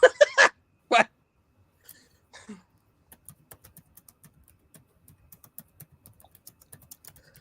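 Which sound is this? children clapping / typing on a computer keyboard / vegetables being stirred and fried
typing on a computer keyboard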